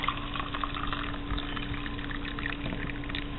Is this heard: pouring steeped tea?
yes